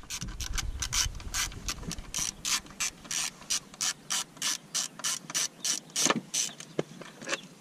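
A ratchet clicks in a fast, steady series of short bursts, close and clear, as bolts come off the coil pack of a 2004 Dodge Neon SXT 2.0L.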